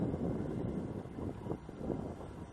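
Wind rushes and buffets continuously against the microphone outdoors while an RC plane flies, giving a low, rumbling, gusty roar throughout with no clear engine tone or talking.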